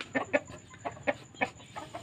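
A chicken clucks repeatedly nearby in quick, uneven bursts, soft and close, with a faint steady hiss behind it.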